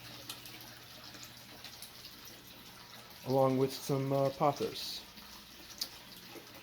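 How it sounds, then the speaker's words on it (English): Water trickles steadily through a small waterfall return on an aquarium fed by an FX6 canister filter, a faint continuous splash in a fish room, while someone speaks briefly near the middle. "It follows this line and then goes into an FX6 and then returns through this little waterfall"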